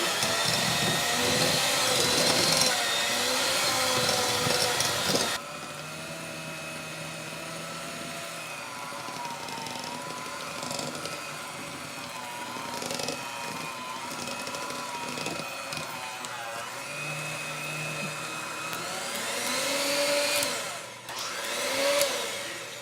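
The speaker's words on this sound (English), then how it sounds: "mixer while you're chopping, and we'll see how noisy we can be" An electric kitchen mixer runs with a loud steady whine while food is chopped nearby, the motor pitch shifting as it loads and eases, then dropping to a lower hum partway through.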